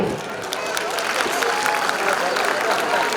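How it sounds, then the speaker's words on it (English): An audience at a preprimary school annual function applauds, a steady dense clapping that fills the space at moderate loudness, with faint crowd noise beneath. "Let's applaud them once again"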